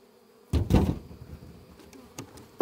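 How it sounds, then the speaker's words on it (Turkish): A newly arrived honeybee swarm buzzes steadily in a wooden hive box, heard up close under loud knocks and thumps as hive frames are handled. "Evet, bu da yeni gelen oğlumuz. Oğul arısı."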